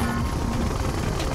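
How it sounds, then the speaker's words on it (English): A Siege Chopper helicopter in the real-time strategy game Red Alert 2 drones with a dense, steady rotor roar that fills the whole stretch at constant loudness. "Siege chopper checking in."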